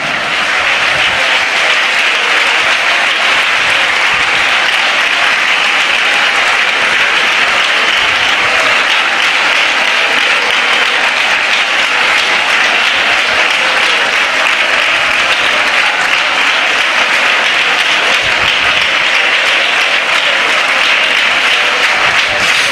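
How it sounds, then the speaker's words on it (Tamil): A church congregation claps loudly and continuously through a Tamil Christian service, a dense, sustained wash of many hands that stays even from start to finish without a break. "இனி அந்த கை தட்டி"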